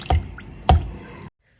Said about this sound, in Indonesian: tambahkan 400 ml susu UHT full cream